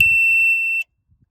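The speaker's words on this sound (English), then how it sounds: "my alarm will beep while the gate is in motion" A USAutomatic Patriot gate opener alarm sounds a single steady high-pitched electronic beep loudly for under a second, then cuts off, followed by faint thumps.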